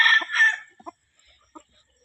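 A fighting gamecock crows once, a short bright call at the start, followed by a few soft clucks in an otherwise quiet setting.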